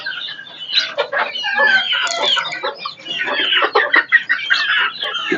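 Country chickens in a small-scale poultry farm cluck busily and continuously, a dense flock chattering close by with overlapping calls and no pauses.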